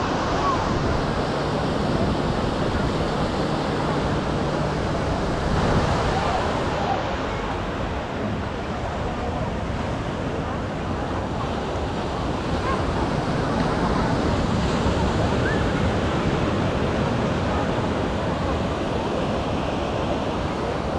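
Ocean surf washes onto the beach at Arraial do Cabo, a continuous broadband roar with wind buffeting the microphone, steady and fairly loud across the whole stretch.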